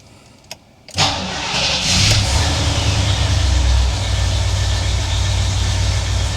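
Starter motor cranking on a 1971 Cadillac DeVille, a sharp click followed by a steady loud whirring drone that runs on for several seconds, close by.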